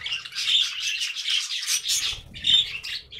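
Budgerigars in a breeding cage give bright, rapid chirps and warbling chatter in quick bursts, close and clear, with a short pause midway before the twittering resumes.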